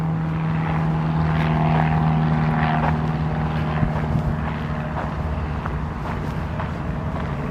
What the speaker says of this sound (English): We've got a helicopter or something above us